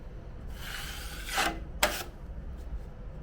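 A drywall knife spreads joint compound over a small wall patch, giving a few scraping, rasping strokes of varying length, fairly close and alone against a quiet room hum.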